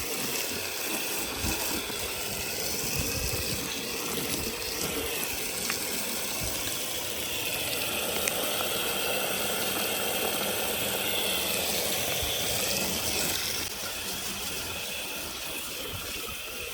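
Water fills a truck wash bucket, set up for a two-bucket offroad truck wash, as a steady gushing, hissing stream that runs without a break and drops slightly in level near the end; nobody speaks.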